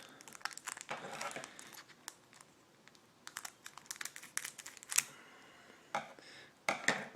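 Plastic wrapping from a Magic: The Gathering M14 booster pack crinkles and rustles in irregular close bursts, with sharper crackles near the end.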